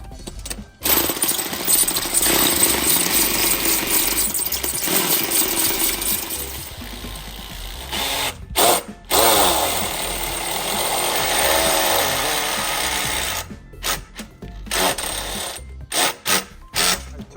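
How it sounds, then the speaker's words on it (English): Loud, rapid mechanical hammering from a power tool widening a metal gutter downspout, running in long bursts with brief pauses and sharp clanks near the end. "this tool, it widens the downspout"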